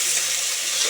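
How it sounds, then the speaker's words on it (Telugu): Chicken pieces fry in hot oil for a homemade chicken curry, giving a brief, loud, continuous sizzle heard up close with no speech. "చూసిన ఫ్రెండ్స్ ఎంత మంచిగా నూనెలో గోలుతుందో"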